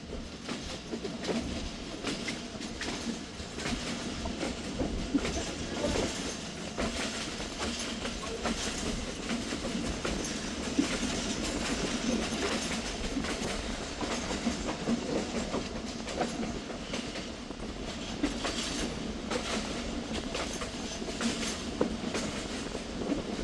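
The 129Up Thal Express running on the rails at night, with a loud, continuous rumble and rhythmic clickety-clack of wheels over rail joints throughout.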